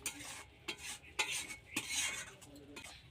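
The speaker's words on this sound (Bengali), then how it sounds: "এবার ওর মধ্যে গরম মশলা দিয়ে দেব, দিয়ে একটু নেড়ে নেব" Garam masala being stirred into paneer chilli in a pan, with quiet scraping and clinking of a utensil against the pan in a few soft irregular strokes over a faint sizzle, close and low in level.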